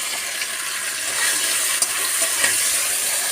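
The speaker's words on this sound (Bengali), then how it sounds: "লাল লাল করে ভেজে নেব।" Potatoes and pointed gourd frying in hot oil with a pinch of salt and turmeric, a steady bright sizzle with a couple of soft stirring clinks, close up and without voices.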